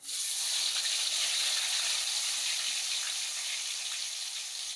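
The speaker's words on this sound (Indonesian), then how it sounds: "kita menggoreng tempenya." Continuous sizzling and crackling of tempeh frying in oil, steady and fairly loud throughout with no voices.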